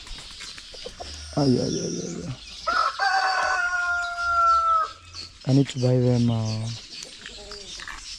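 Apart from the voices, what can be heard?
chickens clucking and rooster crowing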